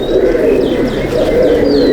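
Racing pigeons in a loft at Mominpur coo continuously in close, loud, throaty, rolling calls, with a few brief chirps above.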